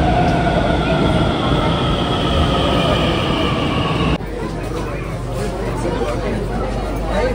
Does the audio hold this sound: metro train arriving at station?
yes